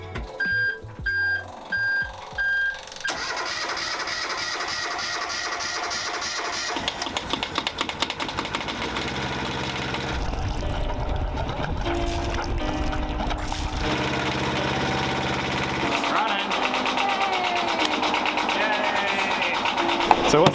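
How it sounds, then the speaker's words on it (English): Boat engine starting after an alternator repair, a few short cranking bursts followed by the engine catching and running steadily with a continuous mechanical drone, with people talking over it. "we're letting the engine warm up"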